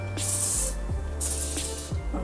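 Two bursts of fine mist from a spray bottle of leave-in conditioner mixed with water, applied to hair, each spritz a short hissing puff over a low steady hum, close by.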